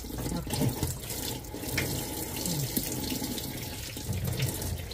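Tap water running steadily into a sink while an eel is washed, a constant splashing hiss close by with small shifts as hands move under the stream.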